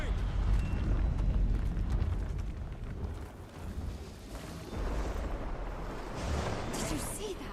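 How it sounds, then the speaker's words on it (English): A bloodstone explosion in the Guild Wars 2 video game rolls out as a deep, rumbling blast followed by a churning, eruptive roar that surges and eases over several seconds. "That bloodstone explosion seemed to trigger some sort of magical echo."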